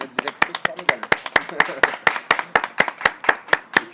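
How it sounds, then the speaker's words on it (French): One person claps for a pair of actresses in a slow, steady rhythm of about fifteen sharp, close claps, with faint voices murmuring in between. "Je vous applaudis."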